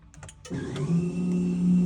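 An electronic rear parking brake from a Tech-53 kit, wired into a MK1 car, releasing with a steady electric motor whir that starts after a few faint clicks and holds close and loud to the end.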